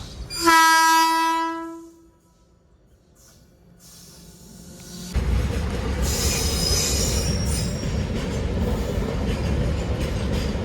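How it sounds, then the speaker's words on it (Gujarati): A train arriving: a loud, shrill squeal of wheels on the rails fades after a couple of seconds, followed by quiet, then a heavy, close rumble of rolling carriages. "જો ટ્રેન આવી ગઈ છે જો"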